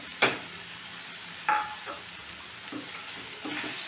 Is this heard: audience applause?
no